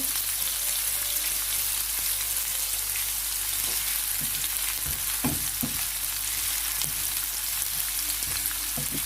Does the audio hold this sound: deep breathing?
no